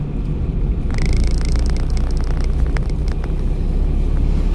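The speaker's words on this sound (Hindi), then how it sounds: "गाड़ी रेस ले रही है" A car engine revs under the driver's foot during a driving lesson, a steady low drone with a rise in pitch about a second in, loud and close, mixed with cabin and wind noise, no talk.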